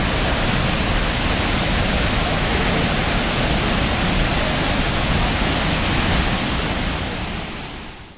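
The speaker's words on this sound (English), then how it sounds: "And this is the waterfall." Arbalam waterfall in Goa roaring in a constant, dense rush of falling water, heard up close and loud without pause before fading slightly at the end.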